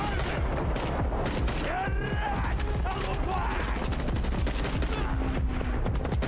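Dense, rapid gunfire from a video game trailer, with a continuous close fusillade of automatic shots and impacts layered over loud mechanical effects.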